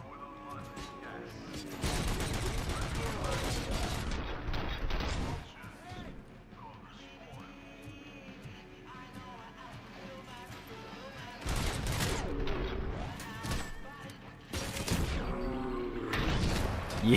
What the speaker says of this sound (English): we're now firing full auto.